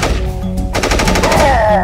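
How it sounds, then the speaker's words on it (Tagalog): An escaped prisoner's gun fires a quick burst of rapid shots, several close, loud reports in about half a second, set in a dramatized horror story. "sinalubong sila ng sunod-sunod na putok ng preso"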